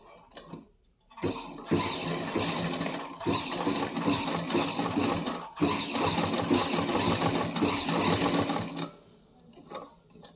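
A sewing machine stitches invisible piping onto a blouse's main fabric, running in one steady, close whirring stretch of rapid needle ticks that lasts most of the time and then stops.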